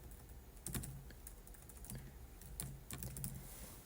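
Typing on a computer keyboard while entering a company profile, with steady bursts of key clicks close by, some heavier strokes standing out, and no voices.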